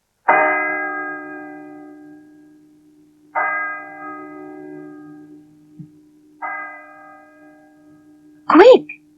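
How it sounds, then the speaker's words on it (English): A deep clock bell struck with a hammer at midnight rings three slow, evenly spaced times, each stroke humming and fading, followed by a brief sharp sound at the end. "The iron boy lifted his hammer and began to strike the bell."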